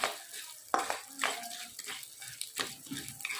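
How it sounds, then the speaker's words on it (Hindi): Edible gum (gond) fried and stirred in hot ghee in a kadai gives a faint, steady sizzle with scraping stirs and a few sharp metallic clinks of the spoon against the pan, without talk. "अब इसके अंदर हम डालेंगे गोंद और इसको भूनेंगे।"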